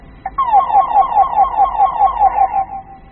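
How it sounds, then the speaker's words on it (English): A loud warbling electronic CB radio roger beep, an end-of-transmission tone, pulses rapidly for a couple of seconds, then cuts off cleanly. "Roger beep, which is they say an end of transmission sound"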